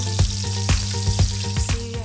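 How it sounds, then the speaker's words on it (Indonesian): Jengkol fries in a pan with a continuous sizzle, while a utensil stirs and scrapes through it in quick, regular strokes about twice a second, close and clear. "Masukkan jengkol ke penggorengan, lalu aduk-aduk ya, guys."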